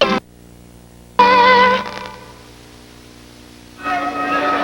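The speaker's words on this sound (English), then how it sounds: "A left hook by Tillis just before the bell, ending round 5" A boxing bell ends round 5 of a professional bout in Cleveland, its ringing tone striking loudly and sustaining with a slow decay, then sounding again near the end.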